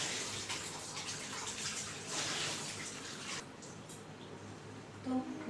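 Fish rinsed under running tap water gives a steady, fairly quiet stream of splashing water that runs throughout, with slight shifts as the fish is moved in the flow.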